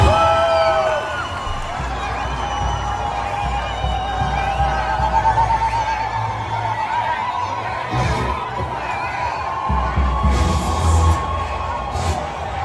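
Large outdoor crowd in Washington, D.C. cheering and whooping with flags flying, a dense roar of voices with scattered shouts rising and falling steadily throughout.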